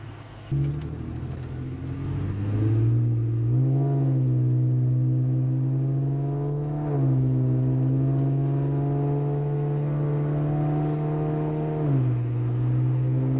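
An Infiniti G35 sedan's engine runs nearby with a smooth, steady rumble that rises in a few gentle revs before settling back, with no voices.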